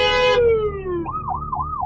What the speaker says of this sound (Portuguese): a ambulância está passando